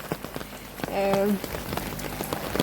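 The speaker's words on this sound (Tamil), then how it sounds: "இப்போ திருப்பி கொஞ்சம் கொஞ்சமாக விட்டு விட்டு மழை பெய்யுது" Intermittent rain falls in Jaffna, a steady close patter of drops on surfaces with faint scattered taps, while a brief tonal sound and some voice-like murmur rise near the middle.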